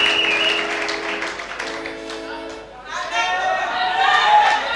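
An audience at a church prophecy service claps and cheers, a sustained patter of applause mixed with a voice and crowd chatter that swells again toward the end.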